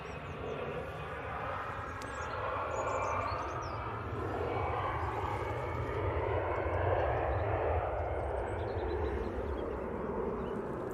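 easyJet airliner rolling down the runway for takeoff at Manchester Airport, a steady broad jet roar sustained for the whole stretch, fairly distant and swelling slightly midway, with no voices over it.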